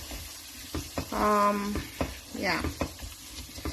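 Potatoes and carrots stirred in a sizzling sweet vegetable curry, a steady fry hiss under scraping spoon strokes, with a brief spoken word and some faint background voice.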